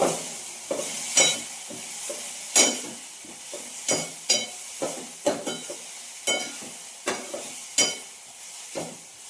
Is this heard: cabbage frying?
yes